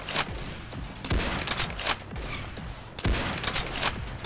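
Rapid gunfire from the Roblox Arsenal shooter game comes in repeated close, loud bursts that crack and rattle in quick succession, with no talk.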